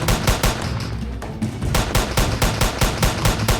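Rapid bursts of gunfire in the video game Escape Evil Step Dad, a steady stream of loud, evenly spaced shots with only a brief pause partway through, no talk over it.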